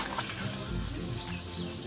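Vegetables hit a pan of ready-made ground spice paste for a village-style chochchori and fry with a close, continuous crackling sizzle and light stirring noise.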